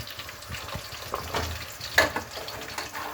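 Cinnamon, cloves, cashews, a single cardamom pod, onion and green chili sizzle and fry in hot oil in a pan for vegetable pulao, a steady close crackle with a few louder pops and stirring scrapes.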